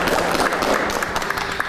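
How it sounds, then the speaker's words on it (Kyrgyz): An audience at a Kyrgyz television show event claps in dense, steady applause that is loud and close throughout. "Жаңыл мырзага турап кол чаап коелу."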